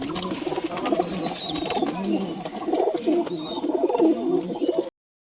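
Giribaz pigeons cooing in low, rolling burbles that repeat steadily nearby, with faint voices and rustling underneath, then an abrupt cut to silence.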